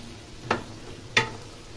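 Peanuts are stirred in a pan with only a little oil, giving two short, distinct scraping strokes over a faint, steady sizzle.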